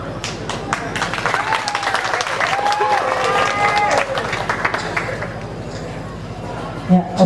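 Applause and crowd clapping at a regional tourism ambassador pageant, a steady dense patter of hands mixed with murmuring and voices, fading slightly toward the end.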